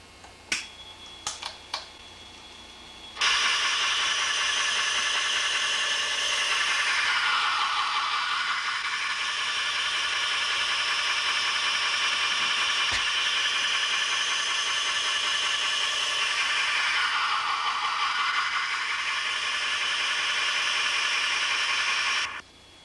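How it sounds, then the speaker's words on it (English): A gem faceting preforming machine starts up abruptly after a few faint clicks, then runs with a steady high whine and hiss while it shapes the pavilion of a stone, the tone rising and falling in slow sweeps. "Now we're ready to start preforming the pavilion of the stone, and we just turn on the machine here."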